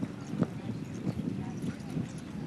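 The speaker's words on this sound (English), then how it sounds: "I'll move up to a trot." A horse moving up to a trot in an arena, its hoof clip-clop beats landing in a steady rhythm at moderate distance under a low ambient background.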